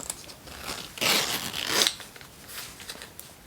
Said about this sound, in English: let's see how that zips up